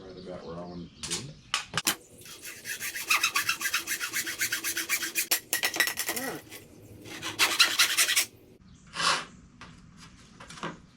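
A plastic pole for a kayak rear camera mount is cut by hand, with bursts of rasping strokes separated by brief pauses, loud and close, and a short final scrape near the end.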